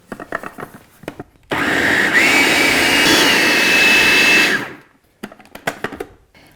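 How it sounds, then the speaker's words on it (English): A blender runs on high for about three seconds, puréeing sweet potato pudding with cottage cheese and chocolate into a loud, steady whirring roar. Shorter bursts of lighter clatter come before and after it. "put on our lid and just blend this on high until it is smooth and creamy"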